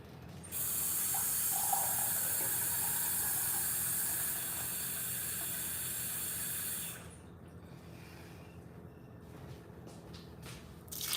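A tap runs steadily with a bright hiss for several seconds, then shuts off, leaving quiet room sound and small clinks.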